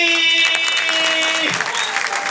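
Concert crowd applauding a performer in Brazzaville, loud steady clapping throughout with a sustained musical tone underneath that drops away midway.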